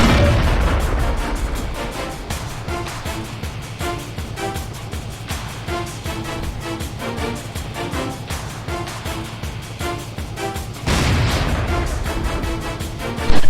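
A tank cannon round striking a Sherman Jumbo in World of Tanks: a loud boom opens, a game engine rumble with clanking follows, then a second heavy impact hits late, with another burst at the very end.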